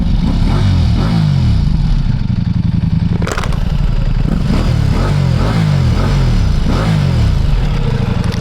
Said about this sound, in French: je vais vous faire un petit peu écouter là le son de